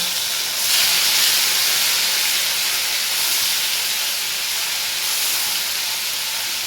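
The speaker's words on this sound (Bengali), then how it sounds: "এই পেঁয়াজটা আমি একটু ভেজে নেব" Onion paste frying in hot oil gives a steady, close hiss that swells slightly after the first moment and holds evenly throughout, with no voices.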